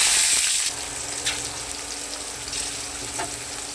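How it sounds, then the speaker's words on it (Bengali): Green peas frying in a kadai with whole cumin and cardamom give off a close, continuous sizzle, with a few sharper crackles as they are stirred. "কড়াইশুঁটিটা ভাজা হয়ে গেছে"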